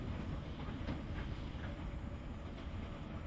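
A metro train in motion heard from inside, a steady dense rumble of wheels on rails with faint rhythmic clicking, continuous and fairly quiet with no talk.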